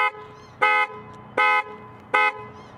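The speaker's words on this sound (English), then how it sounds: "A single press on this will get the hooter going" A Ford F150 Lariat's horn, set off by the key fob's car finder button, honks three times in short even blasts about three-quarters of a second apart, loud and clear with no talk.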